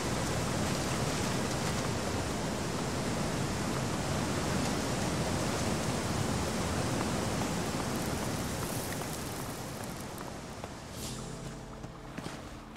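A waterfall in the Elex 2 video game roars as dense, steady broadband rushing that fills the whole stretch and eases slightly toward the end, with faint footstep-like taps and no talk.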